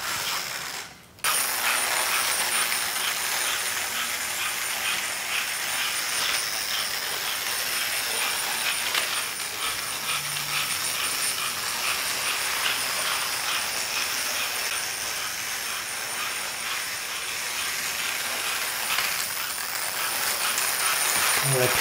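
A 72-year-old American Flyer 4-4-2 Atlantic toy steam locomotive runs on its track with a continuous clattering, ratcheting mechanical whir of gears, following a brief sharp knock at the start.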